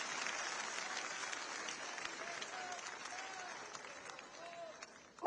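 A crowd of Delhi and Haryana people at an Agrasen community foundation event applauds steadily and loudly throughout, with a dense wash of clapping and faint voices beneath.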